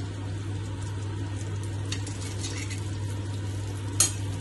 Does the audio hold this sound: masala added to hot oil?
yes